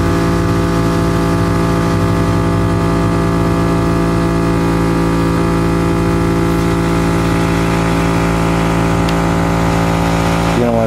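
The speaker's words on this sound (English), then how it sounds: "It's my air compressor." An air compressor runs continuously and loudly nearby, a steady droning hum with a constant motor whine and no pauses.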